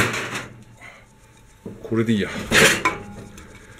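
A ceramic plate clatters as it is set over a container of salt-pickled rakkyo shallots, with a short scrape and clink of dishware while a person speaks briefly nearby.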